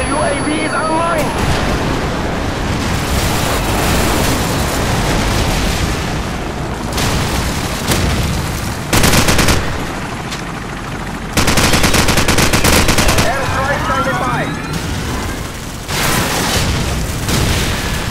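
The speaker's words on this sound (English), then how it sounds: "Friendly airstrike on the way." Booming airstrike explosions and rapid gunfire fill a Call of Duty 4 PC team deathmatch, dense and loud throughout with repeated heavy blasts and machine-gun bursts, game voices calling out over the battle.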